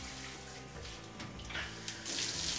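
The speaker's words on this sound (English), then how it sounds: "That's the full spray for a normal shower." Water from a newly fitted shower head in a renovated bathroom runs on its full spray setting, a steady, close hiss that swells slightly louder toward the end.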